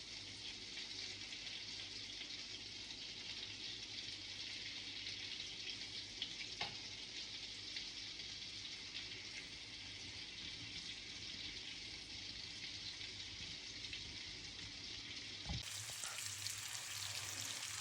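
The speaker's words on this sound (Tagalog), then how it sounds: "nilagyan ko na siya ng liquid margarine para ipapry natin ng half cook ang ating chicken" Chicken breast fillet half-cooking in liquid margarine in a pan, a steady close sizzle and crackle holding throughout with no voices, then shifting character sharply near the end.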